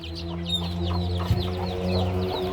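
A Shamo hen clucks softly and repeatedly while her six chicks peep in a busy high chorus around her, close by, over a steady background hum.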